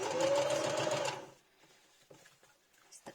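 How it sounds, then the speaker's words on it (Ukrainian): Sewing machine stitching a very small fabric bag along a chalk line, a loud steady rapid whir for about a second before stopping, followed by faint handling clicks. "слідкуємо, щоб у нас строчка проходила чітко чітко по лінії крейду"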